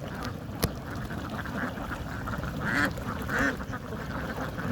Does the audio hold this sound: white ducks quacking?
yes